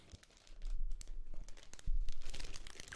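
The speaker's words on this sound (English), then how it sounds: "I hear the rustling of plastic." Plastic packaging from a delivered parcel crinkles and rustles close up in quick, uneven bursts of crackling.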